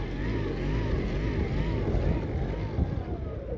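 A 2021 Suzuki 9.9hp EFI four-stroke outboard motor runs loud and near in neutral at its rev limiter, a rough low drone whose pitch wavers and pulses as the limiter cuts in.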